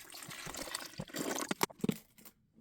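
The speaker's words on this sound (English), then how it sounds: "We're going to fill it up with water." Water poured from a bottle into a portable ice maker at a camp site, a brief splashing, gurgling fill with a few louder glugs before it stops.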